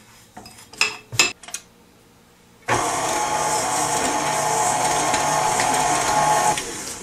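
An ordinary electric hand mixer beats butter and sugar together for a marble cake, starting at low speed. A few light clinks of a bowl and utensils come first, then the motor sets in with a steady, loud whir that runs for about four seconds before stopping.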